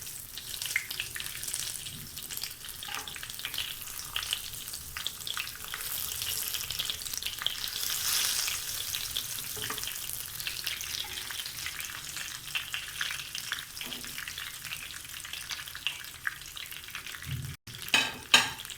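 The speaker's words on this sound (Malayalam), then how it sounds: "ഇനി വഴുതനങ്ങ ഓരോന്നായിട്ട് എണ്ണയ്ക്കകത്തേക്ക് ഇട്ട് കൊടുക്കണം" Stuffed brinjal sizzles steadily in hot oil over a medium flame, a continuous dense frying hiss with faint stirring and a brief clatter near the end.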